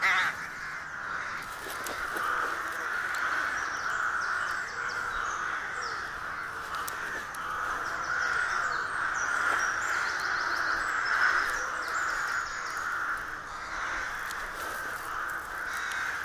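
Rooks caw continuously at a nesting site behind a net, a dense colony chorus of harsh overlapping calls, some near and loud, others farther off, with no talk.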